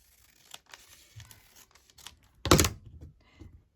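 Paper trimmed down for a journal, a series of light snips and rustles followed by one louder, longer tearing cut, close and quiet apart from that burst.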